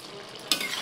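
A jackfruit and prawn curry is stirred after a pinch of garam masala goes in, a soft simmering hiss that jumps into a brighter sizzle halfway through, close and with no speech.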